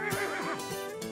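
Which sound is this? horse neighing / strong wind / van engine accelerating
horse neighing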